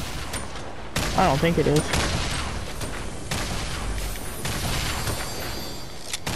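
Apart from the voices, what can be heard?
grenades being shot in a video game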